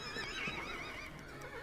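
A horse whinnies in the ranch game Ranch of Rivershine, a faint, wavering high neigh lasting over a second against soft background ambience, with no talking.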